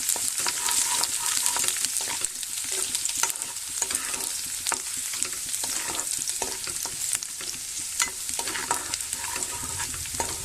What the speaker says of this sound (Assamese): ৰচুন আৰু শুকান জলকীয়াটো ৰঙা কৰি ভাজি ল'ম।